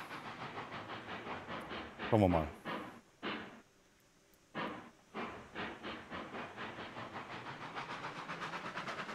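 A steam train runs in the railroad game Railroads Online, rhythmic chuffs and hissing bursts repeating steadily with a brief quiet gap, a voice speaking briefly over it.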